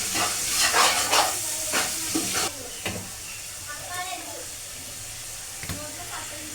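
Food with masala is stirred in a sizzling pan, with a spoon scraping and clinking in several bursts while frying hisses underneath, then quietens to a soft simmer.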